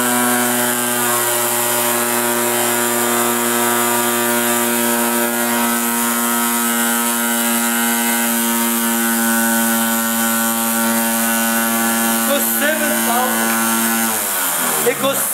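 An experimental DC motor spins at high speed, around 7,350 RPM, giving a loud, steady high-pitched electric whine with strong harmonic tones that holds throughout, then drops and changes near the end.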